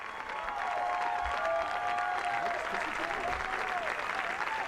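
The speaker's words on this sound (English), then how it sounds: "Furlow gets a good hand as he comes off of second base" A crowd claps and cheers steadily at a high school baseball championship game as a player leaves the field from second base, with a commentator talking over the applause.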